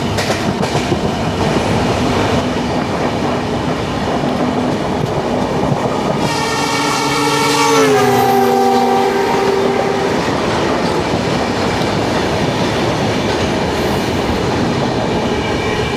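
A train rumbles past Paravur station in Kerala, its wheels clattering steadily as a long, loud two-tone horn blast sounds in the middle, then fades back into the rolling noise of the wagons.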